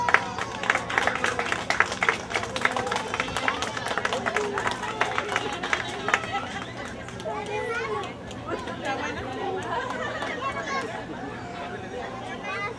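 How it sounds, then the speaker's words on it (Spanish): At a family celebration, a crowd claps and cheers through a burst of applause that fades after about six seconds into overlapping chatter and voices. "ese es aplauso que se escuche"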